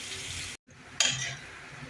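Onions, a bay leaf and a dried chilli fry in a pan with a steady, close sizzle. It drops out briefly, then flares into a sharper hiss as frying resumes, with no talking.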